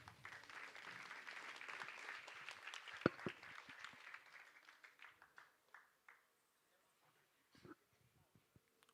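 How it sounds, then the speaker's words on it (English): Applause from a crowd, loud at first and gradually thinning out into scattered claps before fading to near silence. "A big round of applause."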